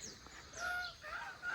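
Farm geese give a few faint honks from some distance, short calls rising and falling over a quiet background.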